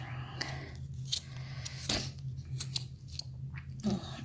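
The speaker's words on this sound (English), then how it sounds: "I'm gonna sharpen my pencil just a little bit" A makeup pencil is sharpened for EDS awareness makeup art, giving soft, close scraping and crunching shavings in brief bursts over a low steady hum, with no talk.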